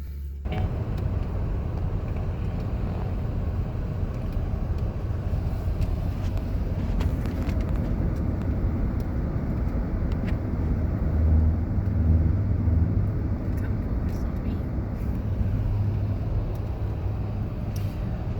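Car driving on a road in Arkansas, heard from inside the cabin as a steady, loud low engine and road rumble that continues throughout without talk.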